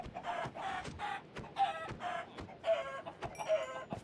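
Minecraft chickens cluck repeatedly in a rapid, overlapping stream from a crowded in-game farm, with clicking sounds mixed in, steady and close.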